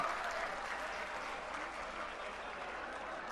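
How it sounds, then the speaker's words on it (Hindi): Dense applause from a large crowd at a political rally at Jantar Mantar welcoming Arvind Kejriwal, a steady wash of many hands clapping that holds strong for several seconds before easing slightly. "जोरदार तालियों से स्वागत किया अरविंद जी का।"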